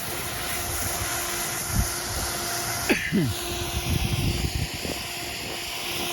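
An artificial snow-making machine blows with a broad, steady roar and a faint high whine throughout, close and continuous, with someone speaking briefly over it.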